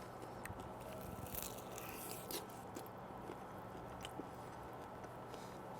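Crunching bites into super crispy, steaming-hot chicken wings fresh from a Yoder wood-fired pizza oven, close and irregular with wet chewing and crackle over a low background hum.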